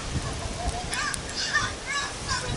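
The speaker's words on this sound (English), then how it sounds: "That's a parrot cussing." Harsh, scratchy outdoor squawks of a parrot, several short calls at moderate distance over rustling background.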